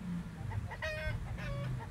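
Laying hens such as Rhode Island Red and Dekalb Brown cluck and murmur softly on a farm, several short calls in a dense, low-level background, with no clear voices.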